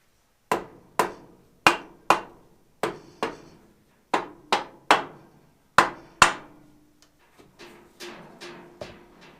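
An Impact Polyhammer made in Saskatchewan strikes the cylinder head of a barn-find Cockshutt 90 tractor, about fifteen sharp metallic blows in a steady rhythm, close and ringing, softening toward the end.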